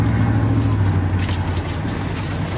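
A 1991 Chevrolet Silverado truck engine idles smoothly and steadily, a low, even rumble held close and constant with no voices.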